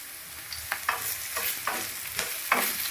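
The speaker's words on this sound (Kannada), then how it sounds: "ಈಗ ಚೇಂಜ್ ಆದಾಗ ನಾವು ಶುಂಠಿ ಬೆಳ್ಳುಳ್ಳಿ ಪೇಸ್ಟ್ ಏನು ತೊಗೊಂಡಿದ್ವಿ ಅದನ್ನ ಹಾಕೋಣ." Ginger-garlic paste sizzles with vegetables in a pan, steadily frying up close while a spoon stirs and scrapes in a quick irregular rhythm. No talking.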